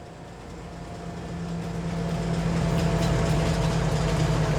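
A rented train in Farming Simulator 22 rolls in around a corner, a steady low rumble and droning engine hum that builds from moderate to loud as it draws near, with no talking.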